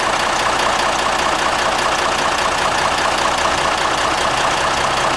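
A 2004 Mitsubishi Fuso Fighter truck's 7540 cc, 270 hp intercooled turbo diesel idles steadily up close, an even, loud rattling drone throughout.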